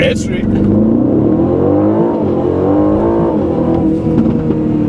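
A 2025 Aston Martin Vantage sports car engine revs loudly and climbs in pitch as it accelerates, holding a strong, continuous roar throughout.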